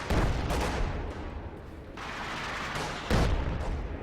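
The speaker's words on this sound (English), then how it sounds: "And actually there comes the fair propaganda artillery." Propaganda artillery barrages boom in a Company of Heroes 2 match, with a burst of explosions, a rumbling stretch of scattered blasts and another loud hit near the end, all heard without talk.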